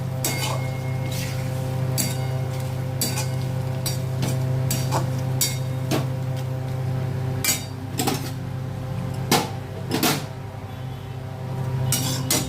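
Crushed whole spices (bay leaf, star anise, cardamom, clove and cinnamon) go into masala in a pan for a jackfruit and meat curry. A steady low sizzle carries under sharp, scattered metal clinks and scrapes of a utensil against the pan, with no talking.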